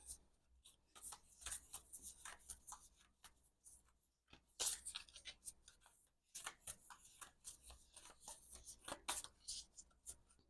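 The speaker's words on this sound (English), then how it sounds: "I wonder too if like the shuffling's taking so long" Oracle cards being shuffled by hand, a dense run of soft papery riffles and crackling flicks that comes in bursts with two short pauses, close and fairly quiet.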